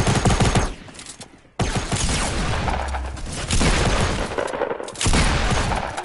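Rapid, loud bursts of gunfire in a Fortnite Battle Royale duos match, sustained volleys with brief gaps between them, close and dense throughout.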